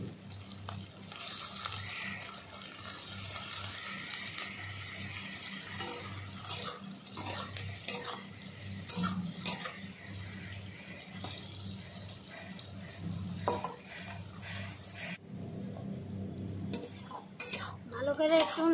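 Cut potatoes are stirred in a frying pan among sliced onions, with soft sizzling, scraping and clinks of a spoon against the pan, fairly quiet and close, with a brief pause near the end.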